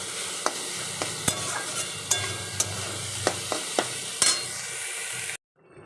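Curry bubbles and sizzles steadily in a pan, with occasional sharp pops and clicks, no voices, before cutting off abruptly.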